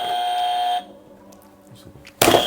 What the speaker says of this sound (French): Vous avez les buzzers, vous pouvez tester pour voir si tout se passe bien